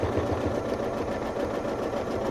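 A sewing machine stitches straight quilting lines with a ruler, running at a steady, fast, close-up whir with an even mechanical rattle and no pauses or voices.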